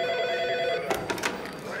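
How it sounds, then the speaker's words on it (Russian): A telephone bell rings in short repeated bursts, a bright electronic trill heard close and clear, with a faint tonal hum underneath. "Харипов, у тебя девушка к телефону."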